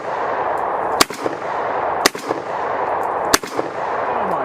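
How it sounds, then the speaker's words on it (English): Izhmash Saiga 12 semi-automatic shotgun firing three loud, sharp blasts about a second apart, each followed by a brief echo over a steady background hiss, with no voices. "Man, semi-automatic shotguns are kind of fun."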